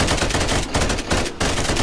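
Rapid gunfire in a Roblox video game as a shop is shot up, a dense, loud burst of repeated shots with two brief pauses, no talking.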